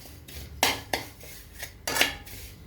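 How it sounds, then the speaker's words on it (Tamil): Spoon scraping and knocking against a pan while vermicelli is stirred over low heat for pal payasam, a few distinct clinks and scrapes spaced apart, close and fairly quiet, with no talking. "இப்படி கிண்டணும்."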